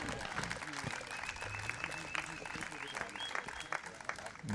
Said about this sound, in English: as they come out onto the pitch to take the applause of the crowd